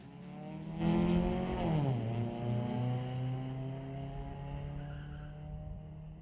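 Drag race cars, including a 1998 Acura, launching down the strip at Mission Raceway Park: a loud engine roar rises sharply, shifts pitch, then holds a steady high drone as the cars pull away.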